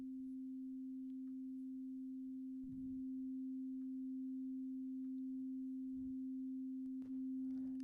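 A dark cinematic synthesizer pad with reverb holds one steady pure tone throughout, with a few soft low thumps and a faint swishing trail near the end, quiet and alone without talk.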